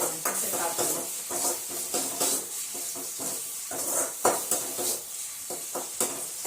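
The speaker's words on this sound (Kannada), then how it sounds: "ಸ್ವಲ್ಪ ಉಳ್ಳಾಗಡ್ಡಿ ಫ್ರೈ ಆದ್ಮೇಲೆ ಇದು ಟೊಮೆಟೊ ಹಾಕಿ ಕೊತ್ತಂಬರಿ ಹಾಕಿ ಪಲ್ಯ ಮಾಡಬೇಕು." Onions frying in a pan for a Kannada home-style hesaru kalu palya, with a steady sizzle under repeated scraping and clinking of a spatula stirring against the pan, close and continuous without voices.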